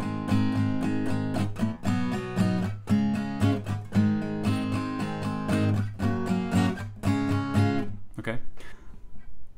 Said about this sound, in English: We're going to now be doing a down strumming, just all down strums